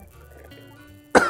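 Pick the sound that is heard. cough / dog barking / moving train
cough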